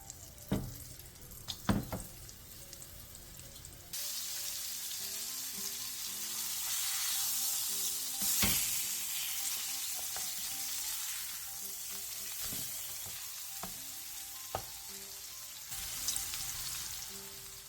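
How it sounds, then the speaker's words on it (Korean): Floured butterfish (pomfret) pan-fries in oil over medium-low heat, giving a steady, close sizzle with scattered sharp clinks and taps around it. "팬에 기름을 두른 뒤 병어를 올리고 중약불에서 앞뒤로 노릇노릇하게 구워주세요"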